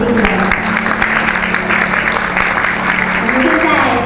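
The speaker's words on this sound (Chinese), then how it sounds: "来一点掌声祝福我们的新人" Wedding guests in a hotel banquet hall applauding the newlyweds during the ring exchange, a steady dense clapping close by with talk running over it.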